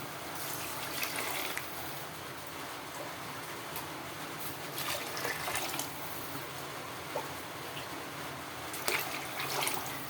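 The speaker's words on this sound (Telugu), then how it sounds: "వాటర్ పోస్తున్నాను." Water pours steadily into a cooking pot of rice, a continuous gushing and splashing that stays fairly even throughout, moderately close and without speech.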